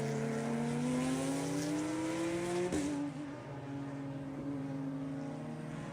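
GT4 race cars, among them a Mazda Miata, roar past at a race track with loud sustained engine drones whose pitch climbs and then drops as they pass.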